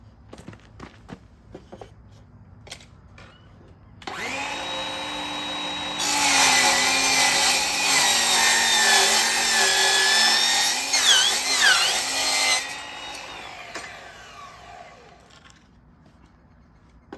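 A power saw cuts a straight line through arcade cabinet woodwork, starting with a whine, then a loud sustained rasping cut for several seconds before winding down, with light handling knocks around it.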